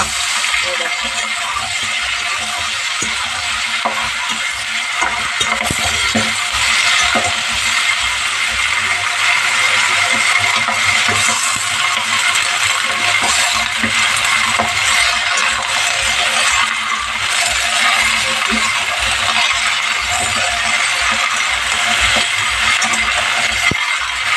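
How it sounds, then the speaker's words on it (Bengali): Home-grown Malabar spinach cooks in a pan with potatoes and oil, a steady close hiss and sizzle broken by repeated scraping, clinking stirring strokes throughout. "এবার আমি পুঁই শাক দিয়ে দেবো।"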